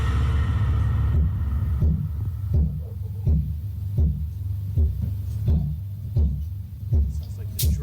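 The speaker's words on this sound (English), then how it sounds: "Sounds like the drum of the washing machine." Rhythmic, muffled knocking like a washing machine drum heard inside an apartment, a series of dull low thuds repeating about every second over a constant low hum, with no talk.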